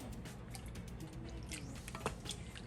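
Parsnip fennel cream soup is stirred in a pot after cold milk is poured in, with soft, faint liquid swishes and small clinks.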